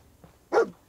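A single short, close bark from the dog companion in the Fallout 4 video game, with no voices.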